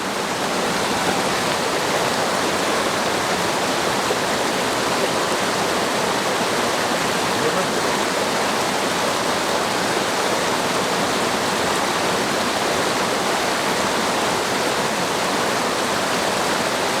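A river flowing nearby: a steady, loud, unbroken rush of water that holds evenly from start to finish with no voices.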